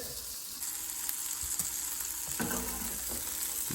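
Chorizo frying in a pan for a breakfast burrito, a dense, continuous close sizzle with crackling and a few brief scrapes toward the end.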